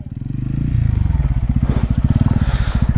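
A motorcycle idles and then revs in a rapid, pulsing putter while being turned around at a roadside pull-off on a mountain ride, loud and close, with faint scraping and a voice briefly audible.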